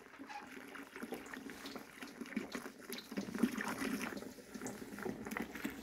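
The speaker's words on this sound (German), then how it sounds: "So, jetzt spülen wir das nochmal durch mit Wasser." Water flushing through the heater core of an Opel Corsa C, a faint continuous gurgling, trickling flow with bubbling fluctuations, steady throughout and without voices.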